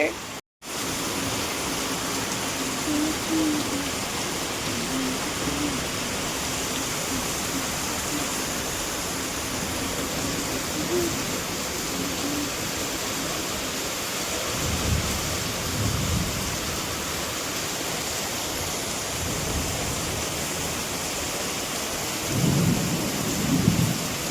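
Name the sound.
rain with thunder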